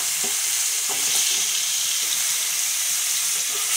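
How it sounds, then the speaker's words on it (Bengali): Long thin strips of potato fry in hot oil, a loud, dense, unbroken sizzle with faint soft knocks of a utensil underneath, close up. "এখন আলুগুলো ভাজা করে নেব।"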